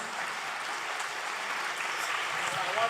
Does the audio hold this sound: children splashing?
no